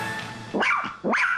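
A dog gives two sharp barks close by, each a quick rising burst with a short gap between, over a faint steady indoor hum and no talk.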